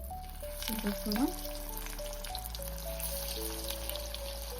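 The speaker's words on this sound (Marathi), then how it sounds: "तेल आता आपलं परफेक्ट असं तापलंय आता आपण सगळ्या वड्या टाकून घेऊया" Banana flower vadis fry in hot oil with a steady, soft sizzle and a few bubbling bursts early on, while sustained tonal hums sound in the background.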